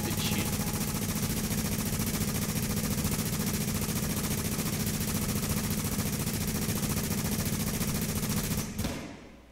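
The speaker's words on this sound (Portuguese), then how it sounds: "Eu tô diminuindo o volume porque tá um barulho de tiro." Dense, rapid gunfire from the online co-op shooter The Division roars continuously and loudly for several seconds, then cuts off abruptly near the end.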